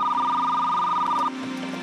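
A telephone bell rings on a French radio programme, a bright warbling trill that lasts just over a second and then cuts off, leaving a quiet background.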